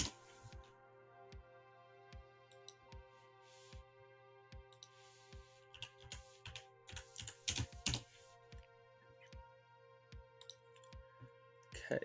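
Soft, steady clicking of computer keyboard keys in short bursts and single taps, quiet and close, with occasional talking in the background.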